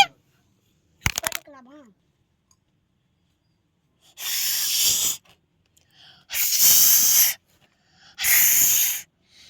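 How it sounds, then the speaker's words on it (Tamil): Pressure cooker on a stove cooking rice for a miniature meal, releasing three loud, hissing steam whistle bursts about a second long each, spaced evenly apart after a few brief clicks and a short vocal sound. "இப்போ வந்து நம்ம வந்து குக்கரை மூடி 3 விசில் வச்சுக்கலாம்."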